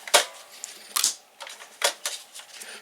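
Plastic clicks and snaps from a Complete Selection Modification Diend Driver toy belt as cards are pulled out and reloaded, several sharp distinct clacks spaced irregularly, close and clear with no talking.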